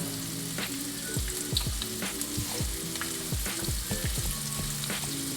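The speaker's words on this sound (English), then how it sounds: "Drop in oil. And I'm gonna repeat. And I'm only gonna fry them 2 at a time." Cube steak frying in hot oil, a dense steady sizzle with popping crackles and a few soft knocks, close and continuous without talk.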